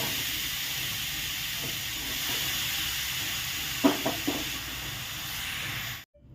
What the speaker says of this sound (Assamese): এতিয়া গেছটো কমাই মই সঘনাই এইখিনি ভাজি থাকিব লাগিব।